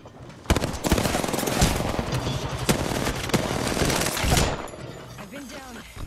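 Rapid automatic gunfire in the Apex Legends Season 9 Arena mode, loud and close, with dense bursts and sharp individual shots running for several seconds before cutting off.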